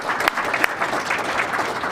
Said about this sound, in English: If we can have a round of applause for them.